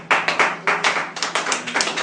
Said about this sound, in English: Shall we give a big applause for her?